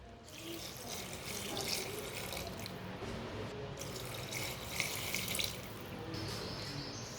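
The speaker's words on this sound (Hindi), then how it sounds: "अब इसमें 2 गिलास पानी डाल लेंगे।" Water pours in bursts from a glass into a clay pot of cooking goat meat, two separate splashing pours, quiet and close, with no speech.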